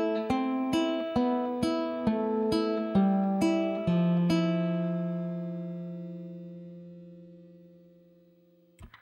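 An acoustic guitar plays measures three and four of Malagueña with a run of plucked single notes. They ring out clearly, then a final chord is left to decay slowly into silence, followed by a faint handling click.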